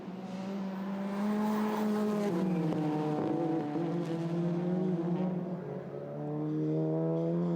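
TCR touring cars racing at Spa with a Peugeot chasing close behind, engines howling loud and near with rising and falling pitch as they shift through corners, no talk.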